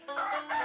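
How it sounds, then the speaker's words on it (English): A chicken's crow comes in as a short, clear sound effect, a brief two-part call at moderate volume with no talk over it. "That goddamn chicken."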